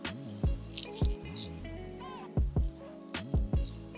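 Styling gel, Eco Styler or Gorilla Snot, raked by hand through 4C natural hair, giving close, wet squishing and squelching bursts in a loose rhythm of roughly two strokes per second with brief pauses between.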